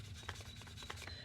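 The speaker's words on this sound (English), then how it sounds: "I'm just giving it one final sanding here." Sandpaper rubbed over the edge of a snakeskin leather wallet, a quiet, close scratchy rasp in short repeated back-and-forth strokes over a low background hum.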